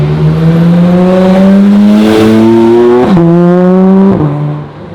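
A Porsche 718 Spyder engine revs up loudly in rising pulls, its pitch climbing and dropping twice, close by and with no talking.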